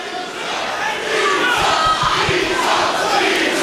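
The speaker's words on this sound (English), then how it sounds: "Fans making noise for Andy Eatock here." Crowd at a full-contact fight event roars and shouts, a loud rising wall of cheering that swells midway and holds steady, with thuds and a commentator's voice mixed in underneath.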